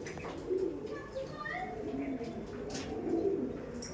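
Pet pigeons in a loft coo softly and steadily over a faint background, with a person speaking nearby at moderate volume.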